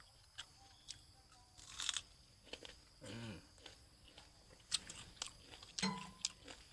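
Crisp, crunchy fresh dates are bitten and chewed close up, giving irregular snaps and crunches between quiet pauses.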